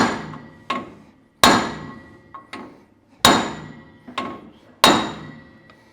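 Six sharp metallic strikes of a brass hammer on a brass drift during a Toyota LandCruiser Hilux rear axle bearing overhaul, at irregular intervals, ringing briefly after each hit, close and loud with no talking.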